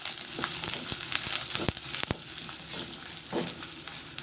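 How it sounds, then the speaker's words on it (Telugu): Chopped onions and green chilies fry in hot oil for a capsicum curry, giving a steady, close sizzle with crackles and the scrape of stirring. "ఉల్లిగడ్డ పచ్చిమిర్చి అయితే ఫ్రై అవుతున్నాయి"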